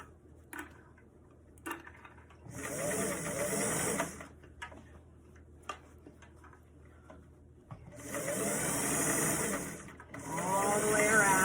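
A sewing machine stitches a fabric beret in three bursts of steady whirring, the first about a second and a half long and the last two running longer. Quiet ticks and handling noises fill the gaps, and everything is close.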